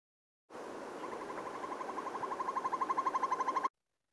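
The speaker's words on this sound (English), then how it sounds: "That is a northern hawk owl. So that's that sort of rolling, undulating kind of call." A northern hawk owl gives a rolling, undulating trilled call, a steady stream of rapid pulses that grows louder and more distinctly beaded toward the end before stopping abruptly, heard clearly and alone.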